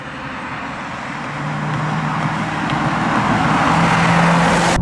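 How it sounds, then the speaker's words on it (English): A 2018 Lexus LC500's naturally aspirated V8 engine drones steadily and close, a low hum that swells gradually louder over a few seconds. "the sound of the naturally aspirated V8 can grab people's attention"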